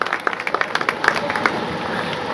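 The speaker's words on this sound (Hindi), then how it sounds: "फिर बजाओ एक बार जोर से ताली।" An audience at a memorial poetry gathering (kavi sammelan) breaks into a burst of clapping, scattered sharp claps building then thinning out into a faint crowd murmur, heard from a moderate distance.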